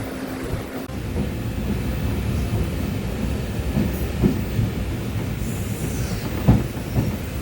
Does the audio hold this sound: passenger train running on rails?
yes